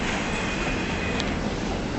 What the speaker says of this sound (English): There's a freight that comes through.